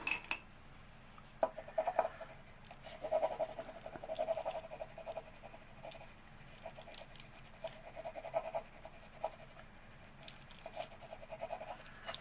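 Faint scratchy rubbing and light tapping as a butterfly rub-on transfer is burnished onto a paper index card, quiet and close, with short scraping strokes repeating over several seconds and no talking.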